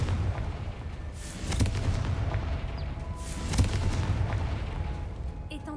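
Confringo blast spell explosions in the Hogwarts Legacy video game, two deep booming bursts about two seconds apart over a steady rumbling background, moderately loud.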